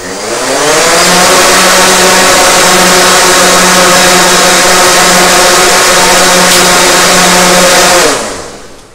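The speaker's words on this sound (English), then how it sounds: "And we throttle up to just over halfway, hold it there for 5 seconds and then drop it back off." Multirotor drone motors on a Pixhawk-controlled craft spin up to just over half throttle, giving a loud, steady whirring hum held for several seconds before quickly winding down, with no speech.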